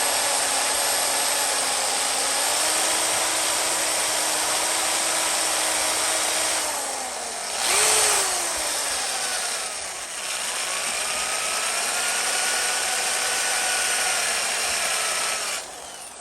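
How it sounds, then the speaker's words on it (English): A power drill bores into the body of a Gibson SG Standard guitar, a loud, steady whine that sweeps in pitch as it bites and eases, with brief pauses and restarts. "I was afraid I might accidentally drill all the way through."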